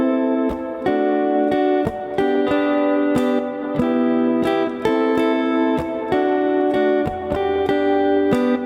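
Acoustic guitar strumming a song's chord progression in a steady up-and-down pattern, close and alone, with regular chord changes.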